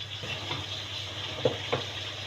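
Chopped onions fry slowly in a covered pan over low heat, a soft continuous sizzle with two brief louder clinks or stirs near the end, fairly quiet and close, no voices.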